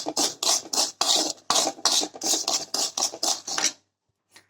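Asafoetida being stirred in hot salt in a pan, a steady run of gritty scraping strokes, close and fairly loud, repeating in quick rhythm before stopping, with one faint scrape after a pause.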